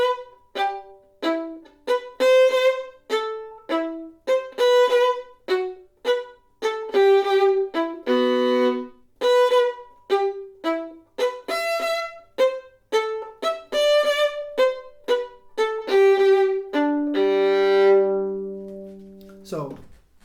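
A violin bows a passage in détaché and collé strokes that moves between soft and loud, with crisp separated notes and a longer ringing chord at the end. It is heard alone and up close.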